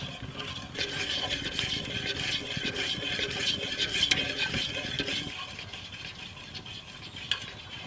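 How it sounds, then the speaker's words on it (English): Bechamel sauce being whisked in a pot over an open fire, a steady rapid swishing and light clinking of the whisk against the pot, continuing for several seconds before easing off. "And give it a little whisk."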